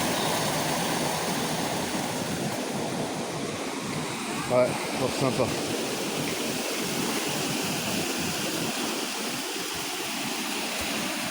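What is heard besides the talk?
small river rushing water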